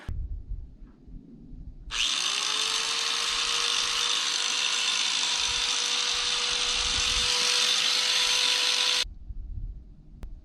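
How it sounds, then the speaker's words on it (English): An angle grinder runs off an OUPES 1800-watt portable power station, spinning up with a rising whine and then holding a steady, loud, high-pitched drone for about seven seconds before cutting off. "Let's see if this will run an angle grinder."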